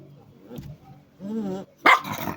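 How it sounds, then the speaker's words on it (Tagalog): A dog barks in a rural home setting, a few sharp close barks with a growly, yippy edge, separated by short pauses and ending in one louder bark. "ito po yung aso nila dito."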